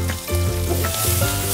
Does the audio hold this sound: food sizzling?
yes